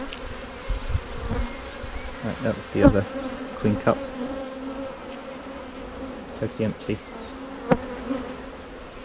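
Dense, steady hum of honeybees swarming in an open hive after a swarm-cell queen has emerged, a close, continuous drone with brief louder buzzes passing near, while a person speaks quietly over it.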